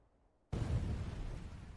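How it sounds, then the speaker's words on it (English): A muffled, distant explosion from the Naruto anime's final battle between Naruto and Sasuke, a dull boom that hits suddenly after near silence and then rolls on as a dense, low rumble. "them clashing sounds like an explosion in the water, but as soon as they bounce back, it has like a distant explosion sound"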